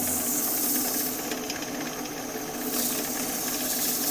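A spindle gouge cuts wood on a spinning lathe, giving a steady close hiss and rough scraping whir that swells and eases slightly as the tool moves.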